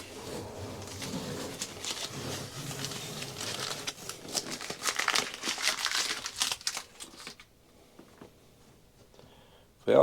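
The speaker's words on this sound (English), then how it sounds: "I'm going to take the tape off and see how clean the edges came out" Masking tape is peeled off a bathtub freshly coated with bed liner material, giving close crinkling and tearing rips in bursts for several seconds before going quiet, then a brief loud sound at the end.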